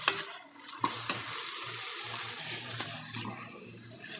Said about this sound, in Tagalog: nagisa ako ng sibuyas, kamatis at bawang